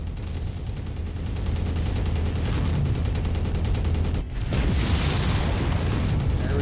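Heavy mech weapons pour bullets nonstop in MechWarrior 5, a loud, dense barrage of rapid-fire rounds with booming impacts, briefly breaking off before resuming at full intensity.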